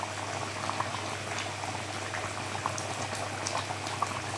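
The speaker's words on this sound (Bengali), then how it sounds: "তো টকবক করতেছে, দেখতেছেন।" A meat roast curry boiling in a pot, a close, steady bubbling with small pops throughout and no talking.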